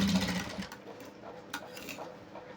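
A sewing machine stitching a pant seam with a half-inch allowance, whirring in a short close burst at the start before dropping to quieter handling and fabric noises.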